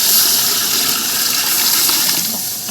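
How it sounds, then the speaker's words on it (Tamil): Water gushes loudly and continuously into a cooking pot, a close rushing pour used to boil chicken for Arabian mandi biryani. "இப்போ அரிசிக்கு தேவையான அளவுக்கு தண்ணி சேர்த்து கோழியை வேக வைக்கலாம்"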